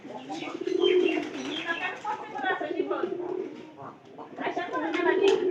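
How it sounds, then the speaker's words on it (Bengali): A pigeon coos in low, throaty phrases, fairly close, in two main bursts with a softer patch between, and people talk faintly in the background. "কীভাবে ডাকতেছে পায়রাটা"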